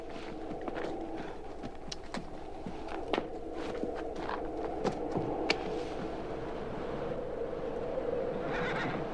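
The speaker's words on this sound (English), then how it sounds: "These are not regular horses. They're wild." Wild horses neighing and whinnying in a 1957 film scene, several shrill calls rising over a steady rumbling background with scattered hoof clatter.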